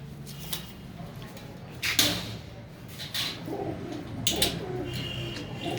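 Rajgana breed pigeons coo softly in the background, faint and low under scattered bright knocks and rustles nearby.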